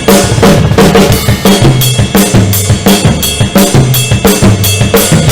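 A full drum kit plays a song with rapid, driving kick drum, snare hits and bright cymbal wash, steady and loud throughout with no talking.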